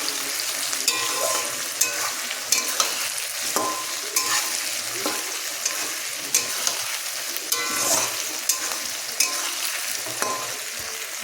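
Onions and potatoes fry for a chicken curry, a continuous close sizzle broken by regular scraping strokes of a spoon stirring the pan, with no voices.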